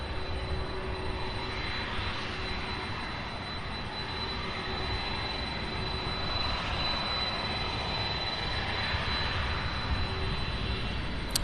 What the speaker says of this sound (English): Airbus A321 Spirit Airlines Flight 890 coming in from Los Angeles.